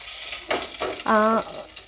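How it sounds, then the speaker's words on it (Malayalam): Cinnamon and spices fry in hot oil for a paneer curry, giving a steady broadband sizzle with a few soft stirring knocks and one brief tonal squeak in the middle. "ഓയിൽ കിടന്നൊന്ന് മൂക്കട്ടെ."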